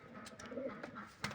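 Pigeons in a backyard coop at a Saudi house, faint soft cooing and murmuring calls repeating through a short stretch, with light rustling and a brief louder burst near the end.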